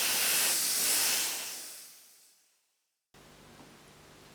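Steady aerosol hiss of sealer sprayed onto a Honda 500 Four badge, close and loud at first, then fading away to silence before a faint background hum returns.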